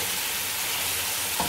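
Roasted chicken biryani mixture fries in a pan until golden, giving a steady, close, dense sizzle that holds evenly throughout.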